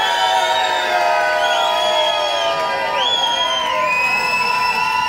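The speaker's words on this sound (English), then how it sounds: "give a cheer" A crowd, children's voices among them, cheers and whoops for Albert after an air guitar act at Eugenes: loud, sustained shouting with high rising yells, steady from start to finish.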